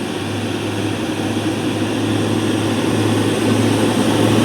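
Steady low droning engine with a sustained low hum from a fully loaded Hino 500 truck crawling slowly uphill, close and constant, gradually building slightly in loudness with no voices.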